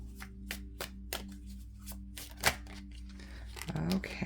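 Tarot cards are shuffled by hand in a quiet room, a series of soft riffling bursts at irregular intervals over a low steady hum.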